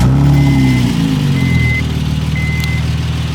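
Engine of a 2008 Honda Accord V6 with a muffler delete revving then settling back to a throbbing idle, loud and close throughout, with a faint intermittent beeping in the background.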